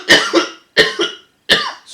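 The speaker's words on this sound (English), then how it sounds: "Sorry about the coughing, guys." Three sharp, loud coughs from a man, each a quick double burst, spaced about three-quarters of a second apart, close up and with no talking, inside a cave.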